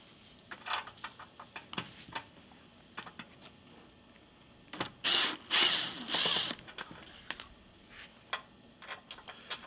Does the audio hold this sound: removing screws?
yes